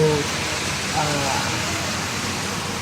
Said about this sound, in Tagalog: it's good to sleep today because of the rain